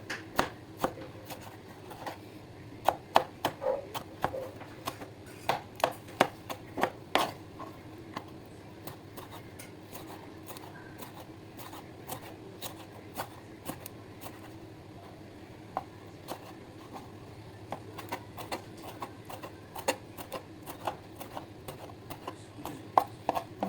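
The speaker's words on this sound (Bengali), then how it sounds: "এখন আমি কাটবো টমেটো। যে টমেটোটা এইভাবে কেটে নেব।" A knife taps rapidly on a cutting board as tomatoes are chopped into small, thin pieces, a quiet, uneven run of crisp clicks with short pauses, with no voices.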